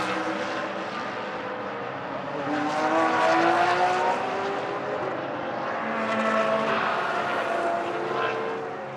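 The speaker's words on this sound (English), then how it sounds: "As Simkowiak blasts down the back straight. Into the final corner" A GT race car at speed during a Blancpain Sprint Series free practice session in Moscow, its engine a loud, steady roar that swells twice as it passes along the circuit, with no voices.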